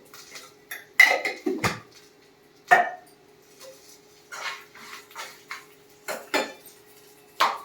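A metal spoon mixing raw mango pulihora rice in a steel vessel, giving irregular clinks and scrapes spread across the stretch, close and sharp against a quiet background.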